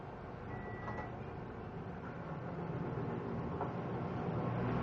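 An engine runs on LPG fuel with a steady, fairly quiet mechanical drone and rumble that holds constant throughout.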